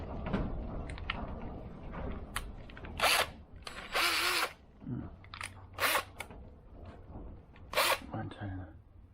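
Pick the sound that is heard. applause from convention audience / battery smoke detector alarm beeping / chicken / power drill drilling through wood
power drill drilling through wood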